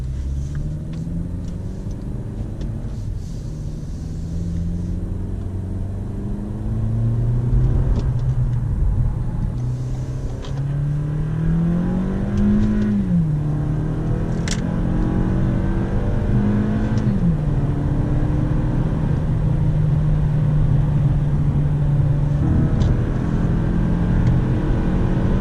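A 2018 Toyota Camry engine revving up and down through manual downshifts, its pitch climbing and dropping in steady steps under constant road rumble from inside the cabin, with no talking.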